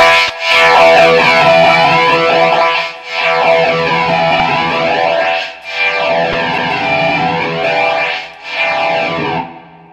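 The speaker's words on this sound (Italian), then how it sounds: "Ho anche la possibilità di avere una modalità di flanger è chiamata Fru" A Nova Modulator guitar pedal in flanger mode gives a distorted, sweeping tone whose comb-like whoosh rises and falls in repeated arcs across several loud sustained phrases, each cut off by a short pause.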